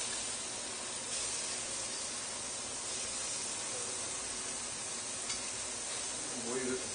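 Boneless pork chops sizzle steadily in a hot pan as they are flipped, a dense, even crackling hiss filling the whole stretch at moderate loudness, with faint talk briefly heard near the end.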